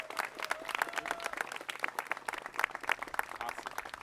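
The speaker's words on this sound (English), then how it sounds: "Let's get a round of applause for Arbor Day." A small outdoor crowd at an Arbor Day tree-planting event claps steadily for several seconds, a dense, moderately loud patter of hands with no talking.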